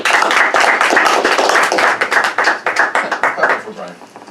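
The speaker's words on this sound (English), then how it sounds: "You can clap, Ray." Clapping at a school board meeting, loud close hand claps from a few people that thin out and stop, with talking mixed in.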